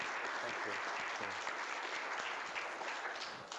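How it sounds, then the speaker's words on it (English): An audience at a talk gives their guest a steady round of applause, a continuous wash of many hands clapping at moderate volume that fades slightly toward the end. "We have another round of applause for our guest."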